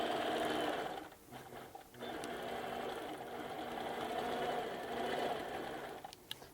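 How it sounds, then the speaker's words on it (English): A sewing machine stitches backward to tack down canvas fabric, its fast mechanical whirr running close and steady with a couple of brief pauses and small clicks. "Now I'm just going to go backwards and tack that down a little bit more because I can only go so far because of the axles on my machine."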